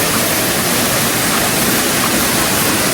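Kambal Elisa 88 Falls in Laguna after a storm, a steady loud roar of running water pouring down, broadband and unbroken throughout with no voices.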